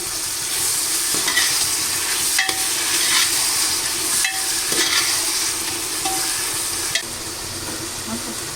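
Sliced large onions fry with salt in a hot pan for an Arabian chicken madhooth, giving a loud, continuous close sizzle broken by periodic scraping stirs against the pan.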